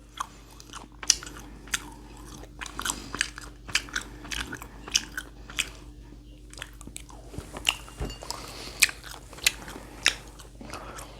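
Close-up crunchy chewing of gwamegi, semi-dried Korean fish, with crisp bites and crackling munches repeating irregularly over a low background hum.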